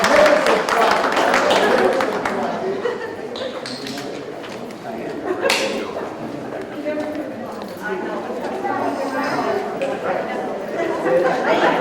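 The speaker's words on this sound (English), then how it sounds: "let's have a nice round of applause for our" Audience applause for a class at an elementary school community meeting, a burst of clapping that fades and mixes with chatter and talking voices in a room.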